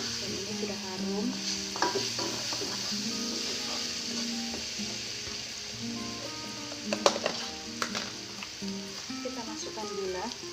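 Spice paste stir-fried in a pan while cooking beef bone soup, with steady sizzling and repeated scraping stirs throughout, a few louder clanks near the end, and a voice speaking faintly underneath.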